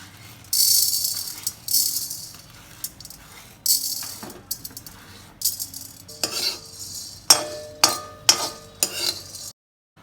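Urad dal being dry-roasted in a pan for bisibelabath powder, stirred with a spoon: repeated scraping, rattling strokes and grain patter in uneven bursts over about nine seconds, close and moderately loud, no talking.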